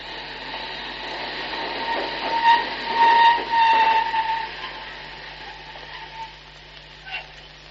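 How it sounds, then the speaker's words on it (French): An underground metro train approaches and arrives, its rumble swelling to a peak with squealing, screeching wheel tones in the middle, then easing off into a quieter hum. "Tenez, écoutez, le métro arrive."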